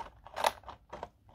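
Scissors snipping through paper to trim a small square for a compartment box, several quick close cuts in a brief burst.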